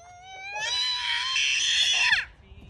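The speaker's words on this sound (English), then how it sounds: "Oh, you guys are screaming." Children, a little girl and boy, let out a loud, sustained high-pitched scream lasting over a second, rising sharply from quieter vocal sounds before breaking off, with faint voices and background noise after.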